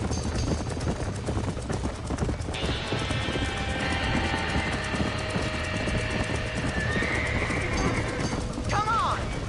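Horses trapped in a burning barn in Red Dead Redemption neigh and whinny amid constant roaring, crackling fire and clattering hooves, with a shrill whinny near the end and voices shouting over the chaos.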